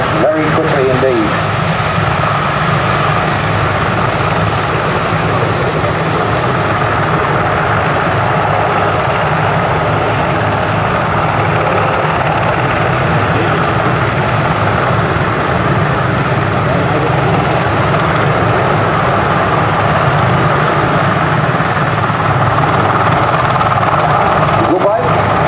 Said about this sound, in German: Sobald ein Hubschrauber voll besetzt ist, hebt dieser auch ab